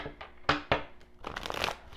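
Tarot cards are shuffled close by in a quiet room, giving two crisp riffling snaps followed by a softer run of papery shuffling.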